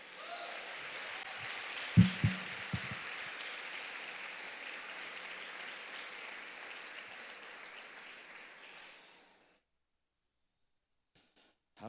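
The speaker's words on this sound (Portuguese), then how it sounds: "Dê um aplauso ao Senhor." A church congregation gives sustained applause to the Lord, a steady wash of many hands clapping for about nine seconds with a few louder thumps near the start, then tapering off into silence.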